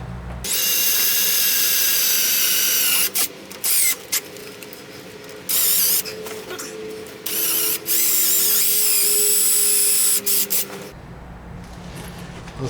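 A power drill whines loudly and steadily, boring through thick steel in long runs broken by brief pauses, close up with no talking.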